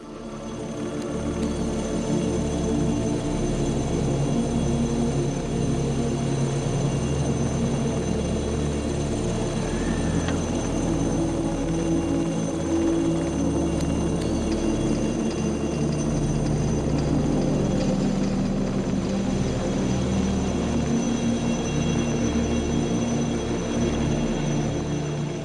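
An Alouette III helicopter in the Alps, flying winch rescue training near Lauterbrunnen, gives off a steady, loud drone of turbine whine and rotor thrum that holds constant throughout, with no voices.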